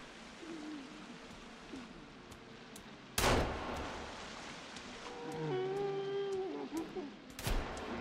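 Two sharp gunshots crack out in the survival game Sons of the Forest, widely spaced against a murky background with warbling, wailing tonal cries between them.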